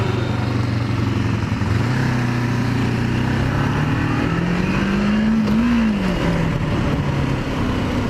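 A Kawasaki Ninja 500R (EX500) motorcycle is ridden with a steady, loud engine drone that rises and falls as the revs climb and ease, alongside heavy wind rush and no talking.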